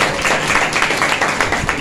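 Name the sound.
congregation applauding loudly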